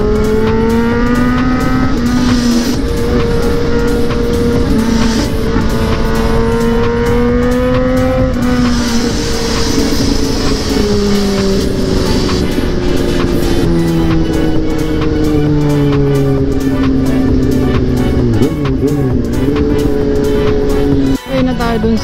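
A Ducati Streetfighter V2 or Kawasaki ZH2 motorcycle exhaust drones close and loud while riding, engine pitch gliding up and down steadily between gear changes, with a brief dip near the end.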